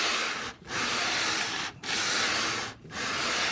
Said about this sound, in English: Taking the edges down to give me the correct radius